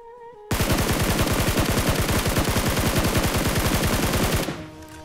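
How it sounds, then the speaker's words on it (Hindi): A SCAR-L rifle in BGMI fired prone in one long, loud, sustained automatic burst of about four seconds, with tightly spaced shots that stop sharply before a faint fading tail. "मैं प्रोन होकर शॉट करता हूँ क्योंकि मेरे पास स्कारल होती है।"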